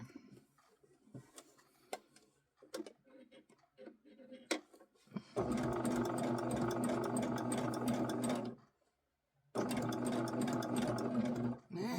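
A sewing machine stitches appliqué in two steady runs of rapid mechanical whirring with a short pause between them, following quieter clicks and handling noises and some talking.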